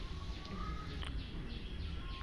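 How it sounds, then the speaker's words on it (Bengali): Pigeons at the Shah Jalal shrine coo softly in the background, with faint bird calls over a low ambient murmur of the courtyard. "শত শত বছর ধরে এসব কবুতর এখানে রয়ে গেছে"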